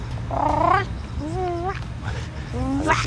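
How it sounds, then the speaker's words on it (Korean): A cat meows three times, rising and wavering cries spaced about a second apart, fairly close, with low background noise underneath. "오 어, 고양이."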